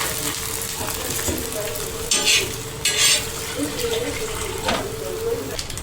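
Sandwich bread set into hot oil on a griddle sizzles and fries steadily, with a few louder hissing bursts and light scraping clatter, the crackle continuing throughout.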